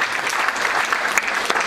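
An audience at an official Hindi-language committee meeting and award ceremony claps steadily in a dense, continuous burst of applause that fills the room.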